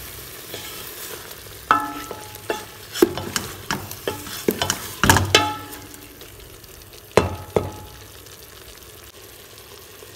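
Beef fries with garlic and ginger in a pan as a spoon stirs it. Soft sizzling runs under a series of sharp scraping and clattering strokes, and no one speaks.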